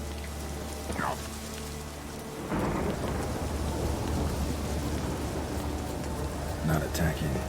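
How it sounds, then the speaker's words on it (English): In The Witcher 3 video game, steady rain falls throughout, with a deep rumble of thunder swelling midway and rolling on beneath the downpour. "Oh, it's raining now."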